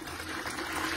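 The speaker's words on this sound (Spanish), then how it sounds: "Ahorita lo que voy a hacer es agregarle agua." Water pours steadily into a batch of lemon and mandarin juice for a small home drink business, a brief close, continuous splashing gush.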